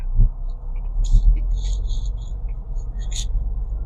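A car on a driving test pulls away slowly in first gear after the handbrake is released, a low steady engine rumble with a few faint higher clicks and rattles from inside the cabin.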